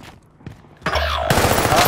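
A multiplayer shooter video game plays after a quiet stretch with a faint shot, then gunfire erupts loudly and continues as sustained, dense automatic shooting close up.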